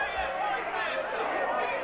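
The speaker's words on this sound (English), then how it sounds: "this crowd is in utter confusion here at Central Davidson High School" A wrestling crowd in a high school gym at Central Davidson High School murmurs and chatters in a steady, dense babble, an indistinct roar of many voices throughout the short stretch.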